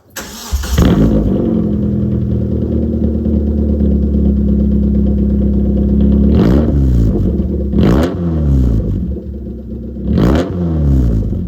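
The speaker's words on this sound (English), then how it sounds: "I've also put a loud exhaust on it, so Canon exhaust. It sounds really nice." A 1997 Hyundai Coupe SFX idles with a deep, throaty rumble, then its loud aftermarket Cannon exhaust revs sharply three times, each burst rising and falling.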